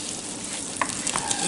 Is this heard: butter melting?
yes